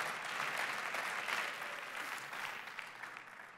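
A church congregation applauds during a service, a broad, even patter of many hands heard somewhat distant and soft, sustained throughout and slowly easing off.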